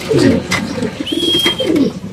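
A pair of pied racer pigeons cooing close by in soft, throaty bursts, with a faint high whistle and some background rustle.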